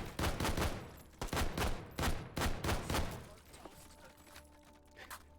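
Rifle fire in the VR shooting game H3VR: a rapid series of about a dozen sharp, loud shots in uneven bursts, close and punchy, thinning out toward the end with a faint tonal hum underneath.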